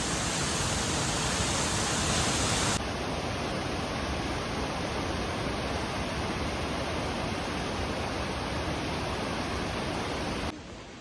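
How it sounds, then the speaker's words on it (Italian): The Amola waterfall in Val Nambrone, Italian Alps, heard up close as a loud, unbroken rushing roar of falling water that fills the whole stretch, shifting slightly in tone and dropping a little at the end. "Guardate di qui davanti alla cascata."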